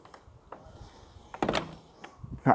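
A car door shuts once with a brief thud, followed by a sharper knock at the very end, close by against a quiet background.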